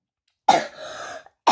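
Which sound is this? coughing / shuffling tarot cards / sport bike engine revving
coughing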